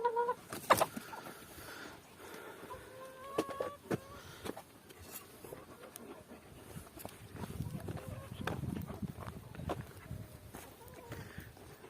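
Chickens cluck around a Kangal dog's farmyard, short scattered calls over a busy outdoor bed with thumps and a person speaking at times.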